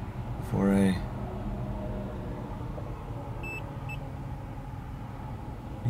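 Two quick, high electronic beeps from a DJI FPV drone controller sound over a steady low engine hum, after a brief burst of voice near the start.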